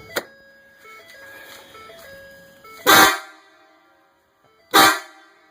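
Two loud, short blasts from a compressor-driven air horn on a 2015 Ford truck ring out close by after a quieter stretch of faint tonal sounds and background noise.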